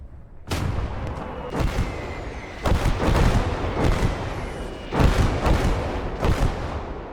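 Heavy artillery fire in the WWII strategy game Gates of Hell: Ostfront, a barrage of repeated loud booming blasts about a second apart, each with a rumbling tail, over a continuous battlefield din.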